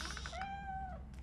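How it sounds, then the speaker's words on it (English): A single drawn-out cat meow from the video game RoboCop: Rogue City rises, holds, then falls away. It sounds faint but clear over a low background hum, with no talking. "The cat is fine."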